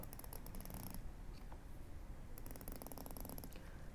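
Close-up ratcheting clicks of a 120-click rotating bezel on a Seiko Fugu Limited dive watch come in two bursts, separated by a quieter pause with a few isolated ticks.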